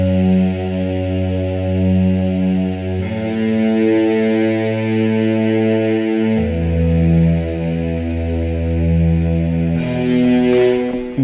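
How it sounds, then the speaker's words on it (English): Big legato synth string patch from an Oberheim-style Expand module, thick sustained chords shifting through a progression with smooth transitions, loud and alone. "What we did find was a string patch on the Expand, and it's got big legato strings"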